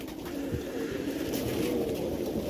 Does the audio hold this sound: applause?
no